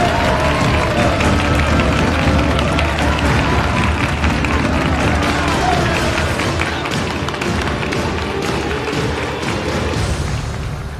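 Audience applause and cheering greeting crosstalk performers as they come on stage at a comedy competition, a dense continuous roar of clapping from a large crowd with some voices mixed in.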